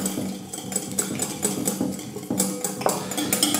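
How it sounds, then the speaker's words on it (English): Egg yolks whisked quickly in a bowl for homemade custard, a steady run of light metallic clinks and taps from the whisk against the bowl, close and fairly busy throughout. "Now what we can do is just give those a quick whisk up."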